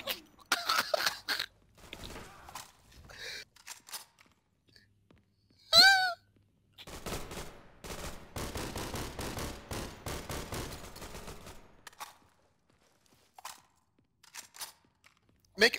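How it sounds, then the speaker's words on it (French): Bursts of video game gunfire crackle from several directions, with a loud sharp shot and a dense stretch of rapid firing, mixed with breathy voice sounds and quiet gaps. "Ça tire dans tous les sens"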